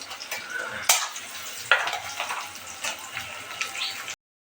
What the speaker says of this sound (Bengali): পেঁয়াজগুলো তেলে দিয়ে দিলাম, লাল লাল করে ভেজে নেব